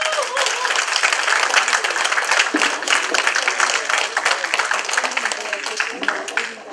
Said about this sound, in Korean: 하나님 영광의 박수